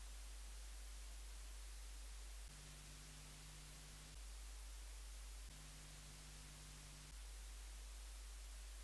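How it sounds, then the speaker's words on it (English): A steady 50 Hz mains-style hum sits under constant broadband white noise, run through a Waves CLA-1176 compressor. The blend stays loud and unbroken, with two stretches of about a second and a half each where a buzzier low tone swells in. "And then we'll compare it with the 50 Hz and white noise."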